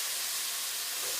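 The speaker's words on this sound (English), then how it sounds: "while that sizzles away, we're going to get ready to add our eggs" Cauliflower rice with seasoning sizzles in a pan, a soft, steady, close hiss with no talk over it.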